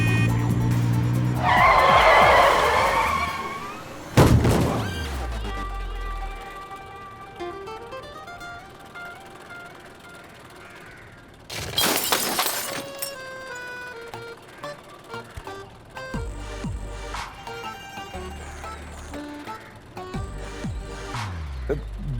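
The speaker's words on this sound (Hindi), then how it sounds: "अबे गाड़ी आ रही है।" A car approaches and skids with loud tire squeals, broken by sharp crashing bursts of impact, heard over steady background music in a dramatized scene.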